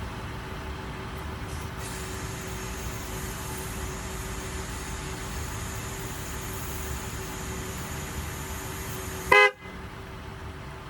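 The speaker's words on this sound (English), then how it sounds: "the Jeep's going to let us know that it's got enough air in the tires by honking the horn" A Jeep Grand Cherokee horn gives one short, loud honk near the end as a tire fill alert, after a long stretch of steady, close ambient hum.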